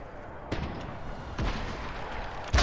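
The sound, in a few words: rocket explosion in Fortnite video game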